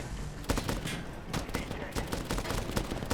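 Sustained automatic gunfire in the Medal of Honor shooter game, a steady stream of closely spaced shots with a few sharper cracks standing out, loud and continuous throughout.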